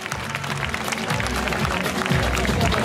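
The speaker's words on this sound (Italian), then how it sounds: "un bel applauso a Delfio lo Cicero" Audience applause for Delfio lo Cicero at the Cavalli sotto le stelle 2019 horse event in Castel di Lucio, a steady crowd clapping throughout with some background noise.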